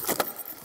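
A bunch of keys jangles in a couple of quick metallic bursts, close and fairly loud, with a faint vehicle rumble beneath.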